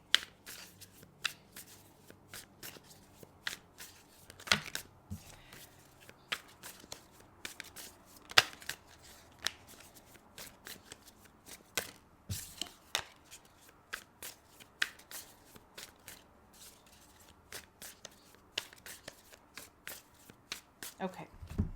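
A tarot card deck is shuffled by hand, sharp riffling flutters and taps repeating irregularly throughout, fairly quiet and close with no other sound competing.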